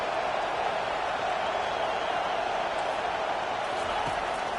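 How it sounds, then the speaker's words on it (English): A steady, dense roar of stadium crowd noise fills a college football video game, a constant broadband wash with no breaks and no clear voices. "this crowd trying to help keep them there"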